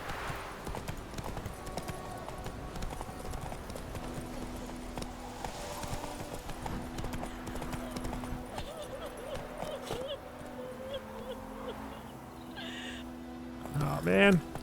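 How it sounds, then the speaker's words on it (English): A horse's hooves in the video game The Witcher 3, with a steady clip-clop at a gallop carrying on under game ambience and occasional bird caws, and a sharper burst near the end. "Once your horses gallop, stamina is depleted, you can no longer gallop."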